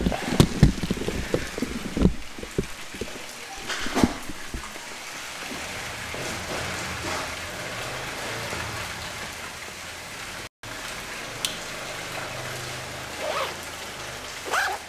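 Steady rain falls in a living room setting, a continuous soft hiss with scattered patters and drips. A few louder knocks and clatters stand out near the start, and a dog barks faintly in the background.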